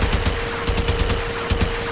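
Gunfire in the Warframe video game shooting at the floor, heard as a dense string of rapid, near shots with steady bursts over a constant electronic hum.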